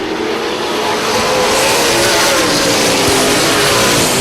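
Super late model race cars roar away on a green-flag start, a loud, continuous wall of engine noise that swells as the field accelerates, with no voices over it.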